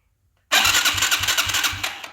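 A choked Chinese four-wheeler converted into a UTV starts after brief silence, and the engine catches at once into a loud, close, rough idle with a steady pulsing beat.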